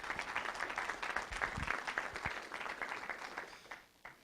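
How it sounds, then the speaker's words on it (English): Audience applause at a CalRecycle packaging workshop, a moderate roomful of clapping with separate hand claps audible. It holds steady, then thins and fades out near the end. "If you can give him a round of applause."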